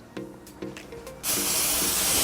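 Cooking spray hisses from a can onto an air fryer pan in one steady, close burst after a few light handling knocks.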